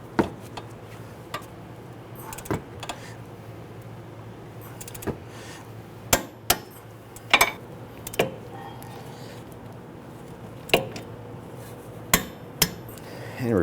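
Sharp metallic clicks and clanks ring out at irregular intervals as a torque wrench tightens the four wheel hub bolts on a 2008–2013 Infiniti G37 during a front wheel bearing replacement, close and loud over a quiet background.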